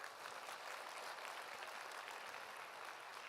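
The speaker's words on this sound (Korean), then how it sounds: "큰 박수 부탁드려요." An audience applauds together, a dense, even clatter of many hands that holds steady throughout and sounds somewhat distant.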